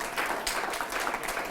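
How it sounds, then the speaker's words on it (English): A live audience gives a warm round of applause for a presenter at the Sound Lounge, a dense, steady wash of many hands clapping at moderate loudness for a brief moment. "if we could just give a warm round of applause for Denis Stewart."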